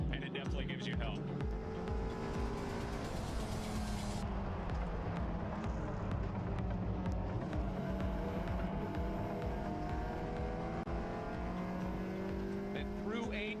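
Race cars at speed on the GRIDLIFE Midwest 2025 circuit, several engines howling loud and steady through a quick kink at turn 10, with tire noise and an announcer talking over the roar throughout.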